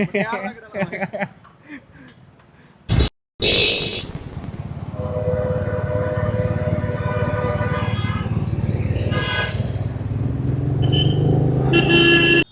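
A motorcycle rides through the city traffic of Jaipur, its engine rumbling steadily while car horns toot around it and riders talk over the noise.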